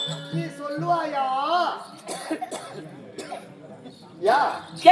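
A performer coughs a few times amid voices on stage during a Tamil village drama troupe performance, with talk and vocal sounds continuing around the coughs.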